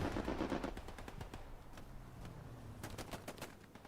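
Strafing run machine-gun fire in the Hell Let Loose video game, a long rattling burst of rapid shots with sharp distant-sounding cracks toward the end, steady and fairly loud throughout.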